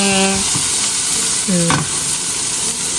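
Food stir-frying in a pan for a home-cooked Sri Lankan lunch, with a steady sizzle and stirring scrapes throughout and a couple of short tonal beeps or squeaks over it, fairly close and loud, no talking.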